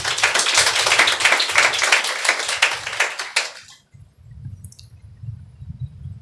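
A church congregation at a Sunday service claps together, a burst of loud rhythmic hand claps for about three seconds that then stops abruptly, followed by a low murmur.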